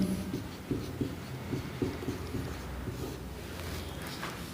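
Pen writing Hindi text on paper during a Class 12 lesson, a soft scratchy rhythm of short strokes close by, steady and fairly quiet with no voice over it.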